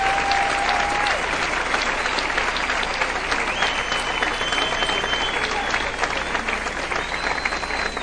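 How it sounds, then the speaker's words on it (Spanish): A church congregation gives a strong, sustained round of applause welcoming guest Helio Franco from Barinas, a dense, loud wash of many clapping hands that lasts throughout, with faint crowd voices and a few tonal whistles or squeals mixed in. "Helio Franco desde Barinas, quien recibimos con un fuerte aplauso en esta noche"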